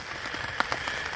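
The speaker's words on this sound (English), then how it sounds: "it doesn't seem like the rain is going to stop" Steady rain falls on a wet campsite along a lost canoe route in Northern Ontario in early autumn, a dense close patter of drops with a few sharper taps, and no voices.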